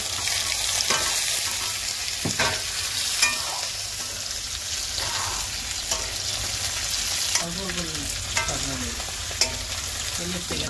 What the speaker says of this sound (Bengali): আলুটা অল্প আমরা তেলে ফ্রাই করে নেব।